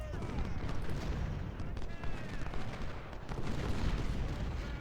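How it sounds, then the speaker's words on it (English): Massed musket and artillery fire from troops in Ultimate General: Civil War, a continuous rolling crackle with deep booms, loud and dense throughout with no pauses. "I think we'll go fire on these guys for a minute."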